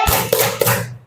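A group clapping in a quick rhythmic pattern, several sharp claps close together over a low steady hum.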